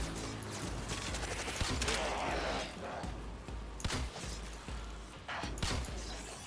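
Gunfire in the video game Warframe, rapid bursts of shots and mechanical clatter in repeated clusters, loud and close, with a player talking at times between the volleys.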